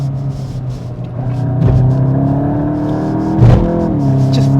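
A Volkswagen Golf GTI driven hard through a corner over bumps: the engine drones loudly with rising and falling pitch as throttle changes, a close in-car hum with a brief louder surge partway through.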